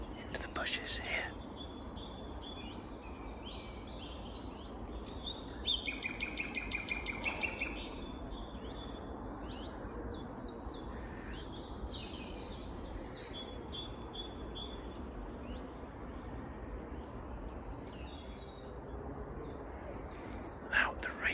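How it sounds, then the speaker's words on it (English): A nightingale sings from bushes in Bourne Woods, its song a run of varied chirps, whistles and trills, fairly close and continuous over soft woodland background noise. "This is so fantastic to hear, as I've not heard a nightingale in this part of Bourne Woods"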